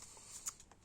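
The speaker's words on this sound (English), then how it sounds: "if you just really want to show your hand shuffling prowess, you can do an over-the-top kind of shuffle" A small stack of four playing cards given a flashy over-the-top hand shuffle: a quick, close riffling flutter of cards with one sharp slap near the middle, a few softer flicks after, and no talk.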